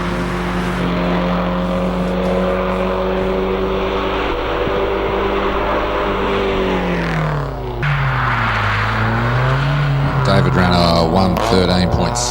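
A BMW race car driven by David Byam climbs a lakeside hillclimb course, its engine note droning steadily, then dipping and rising again as it shifts and accelerates, loud and close with a commentator talking over it.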